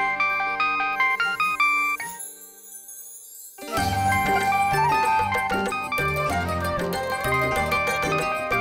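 A phone rings with a melodic chiming tune, pauses briefly, then the jingling ringtone resumes, loud and bright, in a home scene from a Hindi TV drama.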